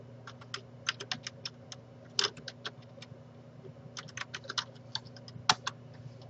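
Close, steady typing on a computer keyboard while entering a long title in Excel, with irregular runs of crisp key clicks over a low background hum.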